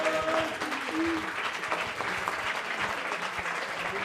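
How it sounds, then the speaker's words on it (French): Audience applause after a debate contest wraps up with the winner announced, a steady, moderately loud clapping from a crowd throughout, with a brief tonal sound early on. "Vous pouvez l'applaudir"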